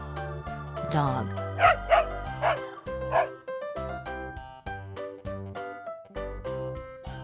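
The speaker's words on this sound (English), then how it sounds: "Dog." A dog barks several times in short, spaced bursts over steady background music, as in a children's farm animal sound set with toys.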